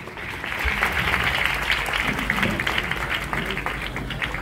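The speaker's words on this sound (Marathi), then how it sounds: "एकदा जोरदार टाळ्या समीर वानखेडे सरांसाठी" An audience at a celebration gives sustained applause for Sameer Wankhede, dense clapping that starts abruptly and carries on steadily at close range.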